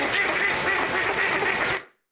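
A flock of ducks in the countryside quacks steadily and loudly, a dense overlapping chorus of nasal calls that cuts off abruptly after about two seconds.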